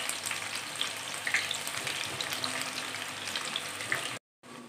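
Green beans deep frying in hot oil give off a dense, steady crackling sizzle close up, running continuously before a brief cut to silence near the end.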